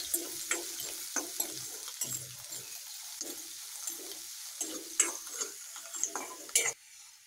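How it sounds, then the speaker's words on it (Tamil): Onions and curry leaves are stirred and sautéed in a pan, with a soft sizzle under repeated close scrapes and clinks of a spoon against the metal, and no speech. "வெங்காயம் போட்டு கொஞ்சம் வணக்கி விடுங்க"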